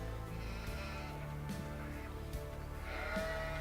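Sheep bleat inside a Farming Simulator 2017 holding pen beside a placeable Kastor Food Inc sales point, with a steady low farm-machinery hum running throughout and several soft bleats cropping up over it.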